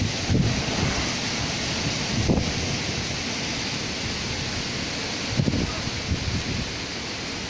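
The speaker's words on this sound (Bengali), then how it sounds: "তো সাইক্লোন তো এইরকমই হয়" Wind and rain from Cyclone Amphan make a continuous heavy rush, broken by several low thumping gusts buffeting the microphone at irregular intervals, with no voices.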